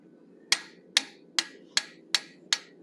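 A hammer strikes a 1/8 inch fuller six times in a steady rhythm while a wolf head is forged in steel, each blow a sharp, bright metallic clink with a short ring, close up over faint background hiss.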